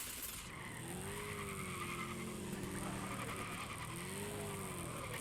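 A car skids and slides with long rising and falling tire squeals over a constant engine roar in the Carmageddon video game, loud and continuous with no talking.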